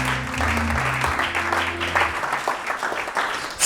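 A church congregation applauding and acclaiming the Lord, steady clapping that swells and continues after a preacher's voice fades out.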